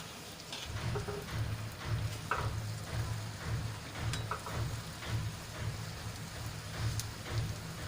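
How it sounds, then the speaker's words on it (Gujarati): Stuffed chili fritters (bhajiya) crackle and sizzle in hot oil, a dense rain-like hiss with a rhythmic low pulsing throughout, fairly faint and close. "આ રીતે આપણે એને એક બે વખત પલટાવી પલટાવીને સરસ રીતે તળી લઈશું"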